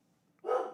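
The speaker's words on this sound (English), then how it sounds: "That's my dog." A dog gives a single short bark, fairly close and loud, that cuts in after a near-silent moment, with no talk over it.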